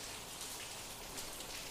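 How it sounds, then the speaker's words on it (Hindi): Steady heavy rain falls continuously during a road trip to Ooty, a dense even hiss with no voices over it. "कंटिन्यूसली बारिश हो रहा है।"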